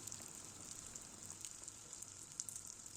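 Soft, steady sizzling of pişi dough frying in hot oil in a pan, with small pops and crackles scattered throughout at low volume.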